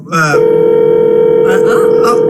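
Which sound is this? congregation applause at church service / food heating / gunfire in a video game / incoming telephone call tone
incoming telephone call tone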